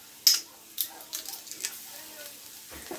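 Beef stew ingredients sizzle in an electric pressure cooker on its saute setting, with a steady close hiss and several sharp utensil clicks and scrapes.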